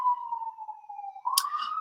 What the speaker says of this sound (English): As you can hear the sirens, that is quite normal from here.